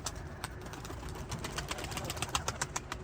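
A female Arab tumbler pigeon in a loft coos in soft, repeated low notes. Sharp clicks and rustles come through quiet background hum, with no talking.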